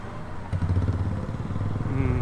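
A motorcycle ridden on the Kasara ghat road, partly off-road, with a steady engine drone that swells in about half a second in and holds close and fairly loud to the end.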